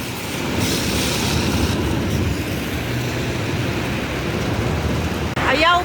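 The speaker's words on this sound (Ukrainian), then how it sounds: "у нас тут вже такий дощик пішов" Steady rain falls on a city street near a traffic light, a dense even hiss close by with a low rumble of passing traffic underneath and no talking.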